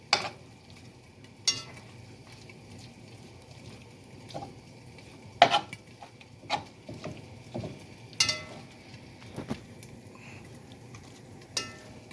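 Meat and corn fry in a pan while being stirred, quiet sizzling with scattered clicks and scrapes of the utensil against the pan, no talking.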